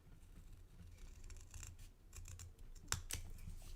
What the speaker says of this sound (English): And this part we're going to snip off.